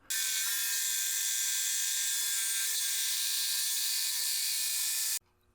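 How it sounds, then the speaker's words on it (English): A loud, steady high-pitched motorized whine of a jigsaw cutting a circle from wood runs continuously for about five seconds, then cuts off abruptly. "I then use my jigsaw to cut this out."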